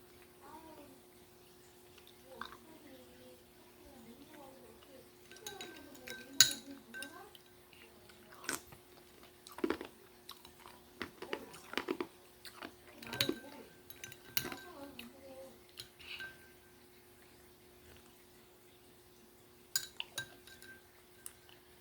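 Ice cubes clink against a glass of ice-cold plain water during close-up eating and drinking, with sharp intermittent clinks, sips and soft chewing. A quiet voice murmurs near the start.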